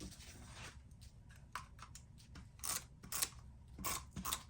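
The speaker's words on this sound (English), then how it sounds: "all I have to do is cut off those 2 little strips" Scissors snip through paper strips in a handful of crisp, close cuts, spaced unevenly and growing louder and sharper toward the end, in a quiet room.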